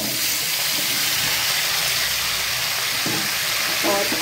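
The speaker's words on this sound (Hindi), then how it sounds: "और आलू को मैं इसमें अच्छी तरह से मिक्स कर देती हूँ और इसको कुछ देर में भुन जाने देती हूँ" Potatoes tossed into a pan with cumin, nigella seeds and turmeric powder fry with a steady, loud, broadband sizzle and hiss that fills the whole stretch, with a few faint stirring scrapes near the end.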